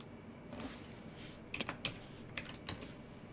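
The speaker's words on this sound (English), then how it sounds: "Yeah, my typing is the problem." Typing on a computer keyboard with a sticky key, with several quick, light key clicks in small clusters over a low steady hum, close and fairly quiet.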